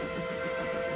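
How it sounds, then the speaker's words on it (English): A cartoon train in a Family Guy scene, a loud, sustained horn-like tone that holds steadily over a low rumble throughout, with no talking over it. "Train!"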